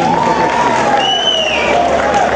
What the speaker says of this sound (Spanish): De nuevo un aplauso para ella